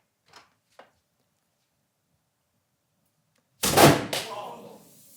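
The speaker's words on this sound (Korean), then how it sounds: "문을 열어주세요. 문 개방." A training door is pulled open during a fire-safety demonstration on flammable gas ignition, followed by a loud, sudden roaring burst that fades over a second or two; two faint short knocks come earlier in near silence.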